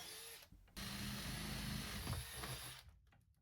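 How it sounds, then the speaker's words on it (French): A power drill bores a series of cable holes, running steadily for about two seconds after a brief start, then winding down to quiet near the end; no one speaks. "Première étape, faire des trous pour pouvoir y passer mes câbles."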